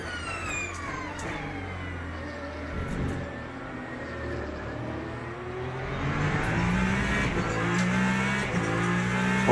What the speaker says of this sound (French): On remarque la différence d'accélération, surtout après 200 km/h quand le moteur électrique commence à aider.